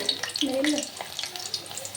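Jaggery ariselu sweets fry in hot oil, a short, soft sizzle with scattered light crackles and bubbling heard close by.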